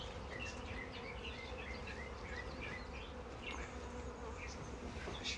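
Bees buzzing steadily around an open hive during a warm February inspection, a dense continuous drone with individual bees whining past close by.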